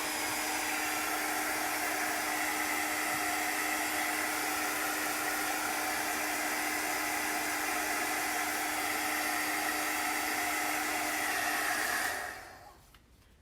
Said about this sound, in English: I've had this heat gun, embosser heat tool, for probably 25 years